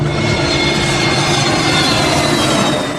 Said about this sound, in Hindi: मुंबई के हवाई अड्डे से विमान रनवे पर दौड़ता हुआ उड़ान भरता है।